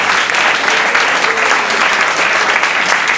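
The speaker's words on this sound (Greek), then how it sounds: "Ένα χειροκρότημα για το New York College." An audience at a gaming party event at a college applauds, a dense burst of steady clapping filling the room, loud and close, without speech over it.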